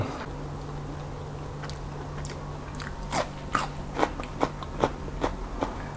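Crunchy bites and chewing of crispy fried Thai larb, a series of sharp close crunches building in the second half over a quiet, humming background.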